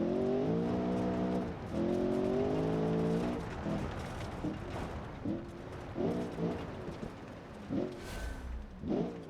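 Off-road muscle car in the BeamNG.drive game tearing around a gravel circuit, its engine revving up and down in repeated surges, with shifts and a few short tire noises, heard alone with no talk.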